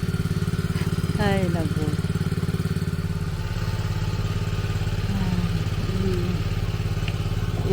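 A motorcycle engine runs steadily close by throughout, its low mid-pitched drone continuous beneath brief talk and a few clattering knocks on a farm.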